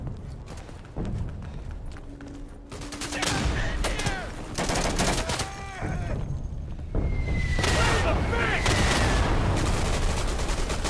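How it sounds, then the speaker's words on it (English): An artillery strike in the video game Day of Infamy brings a barrage of booming explosions and rattling gunfire across several seconds, mixed with whistling shells and battlefield din, loud and continuous. "That would have been 2 deaths right there from an artillery strike, him and I"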